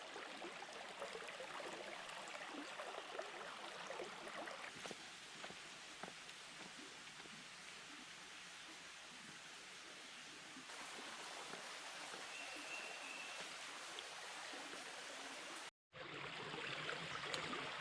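Dutchman's Creek in Uwharrie National Forest flows in a steady, faint wash of moving water that continues evenly, broken only by a momentary dropout near the end.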